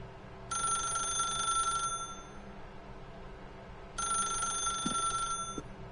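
Two bursts of an old-style telephone bell ringing in The Stanley Parable, each about a second and a half long with a pause between, bright and clear over a quiet, eerie background hum.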